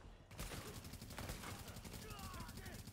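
Continuous rapid gunfire fills the scene from the shooter game The Division, dense bursts of shots layered over game noise, with a voice talking on top of it.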